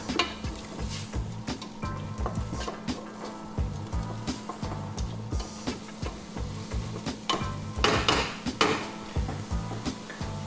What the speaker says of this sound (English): I'm just going to saute this together for about 5 minutes so all these flavors can combine.